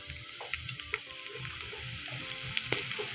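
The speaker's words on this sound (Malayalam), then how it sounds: "എണ്ണ ചൂടായപ്പോഴേ ഞാൻ അതിനകത്തോട്ട് ഇച്ചിരി സ്പൈസി സാധനങ്ങൾ ഇടുവാണേ ഒരിച്ചിരി തക്കോലവും ഗ്രാമ്പും ഏലക്കയും കൂടെ ഇട്ടൊന്ന് മൂപ്പിക്കുക" Star anise, cloves and cardamom fry in hot oil, a soft continuous sizzle with scattered small crackles and pops, heard close and fairly quiet.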